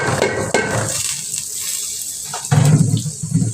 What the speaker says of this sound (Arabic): اضيف كده مية مغلية